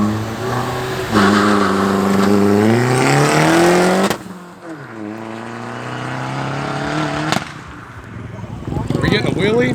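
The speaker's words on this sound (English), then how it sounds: "We're getting a burnout." A car revs hard for a burnout after a car show, its engine climbing and falling in loud rising sweeps close by, while onlookers talk over it.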